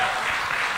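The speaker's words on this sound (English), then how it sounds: "Give a big round of applause." A conference hall audience at a national e-governance event breaks into sustained applause, dense and even, filling the brief moment without speech.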